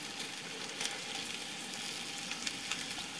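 Potatoes and onions fry in oil in a pan for a Spanish omelette, a steady soft hiss of sizzling with small crackles throughout, fairly quiet and with no voices.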